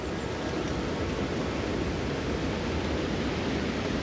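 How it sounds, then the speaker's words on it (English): Waves and a gentle breeze at a seaside village in the Honkai Star Rail game form a steady, even wash of ambient noise that continues throughout, with no speech. "The gentle breeze and the sound of waves still linger."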